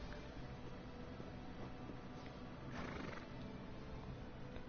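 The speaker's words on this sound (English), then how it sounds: "It's a horsey. Look at it, the horsey." A horse in The Elder Scrolls video game neighs and whinnies, a single drawn-out call near the middle that rises over steady ambient game noise, with faint hoof clip-clops around it.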